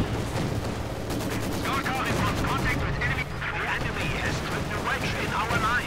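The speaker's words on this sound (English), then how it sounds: "Sniper getting off another excellent shot there." Steady gunfire and rattling fusillades sound during a Company of Heroes 2 battle, dense and continuous, with a commentator's voice talking over them.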